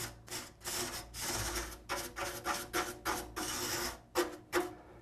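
A whisk broom is brushed dry across a dusty microwave vent, giving bursts of bristly scrubbing and rasping strokes in a steady back-and-forth rhythm, close and moderately loud with no talking.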